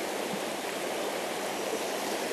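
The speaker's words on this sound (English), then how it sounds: "This river is running a little strong." A strongly flowing river swollen after recent rain, giving a steady, loud broadband rush of water that stays constant throughout with no voices.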